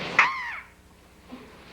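A single harsh raven caw rings out loud and close at a wetland setting, followed by a quieter, lower call near the end.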